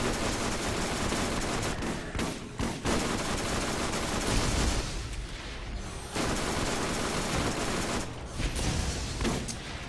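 Rapid automatic gunfire from the video game Borderlands rattles in dense bursts with brief gaps between volleys, loud and continuous, with no speech.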